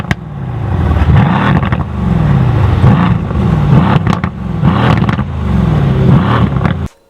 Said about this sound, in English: we are talking about the Mercedes AMG C63s